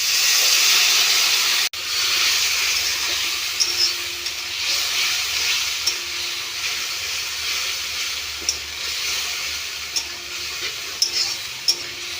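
Water poured onto chilli paste and spices frying in a pan for a soyabean and potato curry, giving a loud, steady steaming hiss that holds for about twelve seconds with a brief break near the start.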